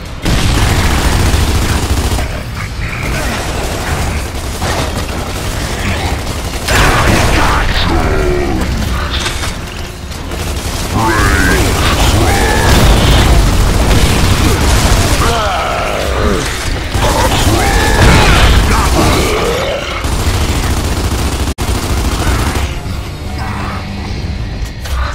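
Gears of War 2 combat in the Hive level on Xbox Series X: loud, continuous bursts of gunfire and booming explosions mixed with mechanical clanks and creaks, dense and sustained throughout.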